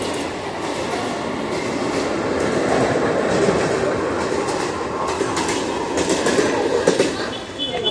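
Train at a railway station in Mumbai, a steady broadband rumble and rattle of rail cars that runs continuously through the clip, fairly loud and close, with station crowd noise mixed in.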